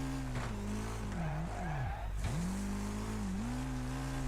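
An engine in the racing game Wreckfest drones steadily, its pitch dipping and rising as another car closes in during an online race, with brief tire squeal.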